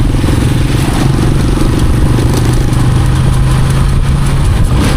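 A motorcycle engine rumbling steadily at close range, loud and continuous with a low throbbing idle and some mechanical clatter.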